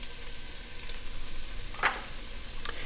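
Turmeric and paprika sizzle in a pot for a soup, a steady close frying hiss with a sharper burst of crackle near the middle and light clinks.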